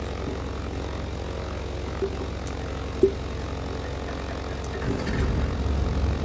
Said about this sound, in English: Now we're gonna do the starboard engine.